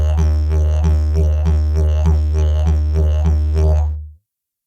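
Didgeridoo playing a faster ta-wa rhythm: a continuous loud low drone pulsing with about eight regular wah-like tonal swells, ending abruptly, with no voices.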